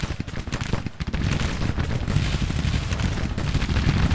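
Skirmishers firing Mississippi rifle volleys in Grand Tactician: The Civil War, dense crackling musketry with overlapping shots that builds to a continuous loud roll of fire.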